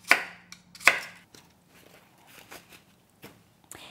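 A knife chops an apple into chunks on a cutting board, with a few sharp, irregular thuds spaced across the moment, close and fairly quiet, with soft handling sounds between cuts.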